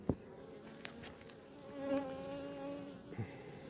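Honeybees from a small hive colony hum in a faint, steady drone, close and quiet, with a few soft knocks and no talk.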